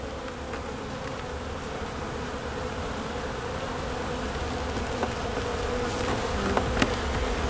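Honeybees buzz in a dense, steady drone around an open hive while a brood box is added, close and constant, with occasional louder individual bees passing near.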